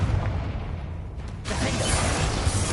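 A Confringo explosive spell cast in the Hogwarts Legacy video game bursts as a broad, rumbling blast that swells mid-clip and sustains loudly amid continuous game noise.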